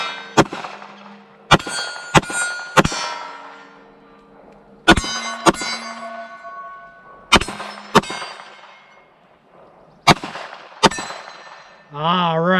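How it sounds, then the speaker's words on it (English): Pistol rounds from a Palmetto State Armory Dagger strike a steel gong target outdoors, each shot followed by a bright ringing clang that hums and fades; about ten hits come in irregular bursts, with a wavering tone near the end. "got that gong rocking"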